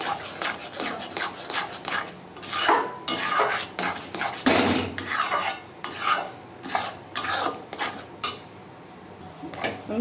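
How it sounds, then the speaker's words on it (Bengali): Semolina stirred with a utensil in hot water in a metal pot, a steady run of scraping and clinking strokes against the pot, fairly close and moderately loud, with no voices. "এইভাবে গরম জলের মধ্যে সুজিটাকে দিয়ে এইভাবে হালকা হাতে নাড়তে থাকবেন"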